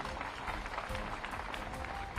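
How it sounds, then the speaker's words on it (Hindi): Audience applause at a political rally in Sidhi welcoming the Prime Minister: dense, steady clapping from a large crowd fills the whole stretch at an even level, with no clear gaps. "एक बार तालियां बजा के प्रधानमंत्री जी का अभिनंदन कीजिए, स्वागत कीजिए।"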